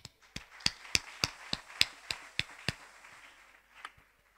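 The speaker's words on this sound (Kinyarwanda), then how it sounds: "abagore twikomera amashyi" Women clap in a slow, evenly spaced rhythm, about ten sharp, close hand claps that then trail off into quieter room noise.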